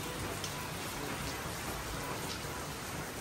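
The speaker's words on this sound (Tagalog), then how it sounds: "Lagi na lang pong umuulan dito sa may amin." Steady rain falls in a dense, even hiss, pattering on surfaces without pause, fairly soft and continuous.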